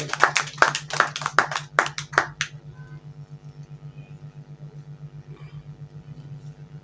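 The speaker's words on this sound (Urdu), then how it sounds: "تمام جو شرائع کرام آئے ہیں ذرا تالیوں میں ذرا ان کا استقبال کیا جائے" At a mushaira poetry gathering, a handful of people clap to welcome the poets: about a dozen separate, fairly sharp claps over two seconds, then silence apart from a steady low hum.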